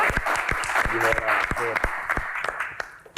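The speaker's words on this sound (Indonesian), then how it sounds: "tepuk tangan sekali lagi" Audience applause at a talk show, honouring the panelists and guest star; crisp, dense clapping runs throughout while a voice speaks over it.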